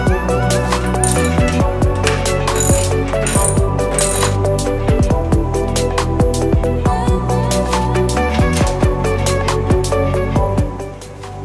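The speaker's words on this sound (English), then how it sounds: "we're gonna take out this little bolt and replace it with this little stud here" A 10 mm bolt being removed from the hood of a 2006 Subaru WRX, with close, bright metallic clinks, ratchet clicks and jingling taps scattered throughout, no talking.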